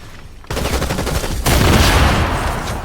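Pistol gunfire in the Fortnite Zero Build video game: loud, dense bursts of close shots that come in two bursts, the second stronger, with no voice over them.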